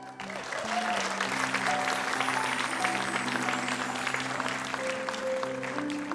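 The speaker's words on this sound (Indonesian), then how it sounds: "mari kita tepuk tangan sekeras-kerasnya untuk semua komedian kita hari ini" A studio audience at an Indonesian comedy show applauds comedians with sustained, even clapping, loud and continuous, while a faint steady tone runs underneath.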